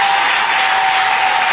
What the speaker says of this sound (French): je croyais que tu allais acclamer très très fort